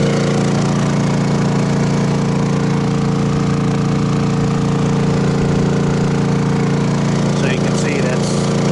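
An RV generator runs steadily through the vent openings, a loud continuous engine drone with a low hum that holds throughout, with a few faint higher clicks near the end.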